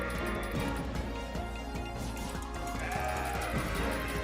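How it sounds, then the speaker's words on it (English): A goat bleats in the CrossCode video game, short nasal calls heard faintly under dense game music and effects, with no one speaking. "Rude goat."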